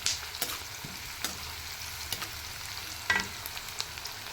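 Chicken frying in a pan while being stirred, crackling sizzle under brief scraping strokes of a spoon against the pan, close and fairly quiet, with no voices.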